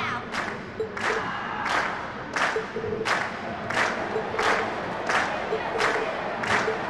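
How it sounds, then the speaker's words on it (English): Crowd cheering at the end of a Class VII concert performance in The Legend of Heroes: Trails of Cold Steel, heard as repeated regular swells of cheers and claps, fairly steady and moderately loud, with no speech. "we've heard your cheers loud and clear"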